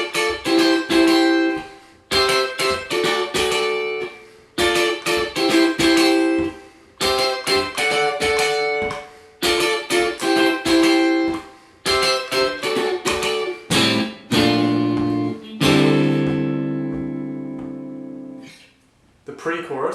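Electric or acoustic guitar plays a chord sequence in rhythmic strummed phrases separated by short pauses, ending on a long sustained chord, loud and close.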